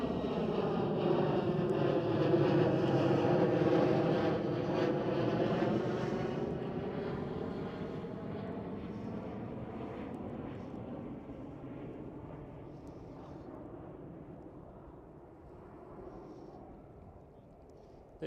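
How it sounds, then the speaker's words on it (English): Transavia Boeing 737 performing a go-around at Amsterdam Schiphol, loud jet engine roar with a pitch sweep as it passes overhead, then a long fade into distant rumble. "This Transavia 737 made a go around."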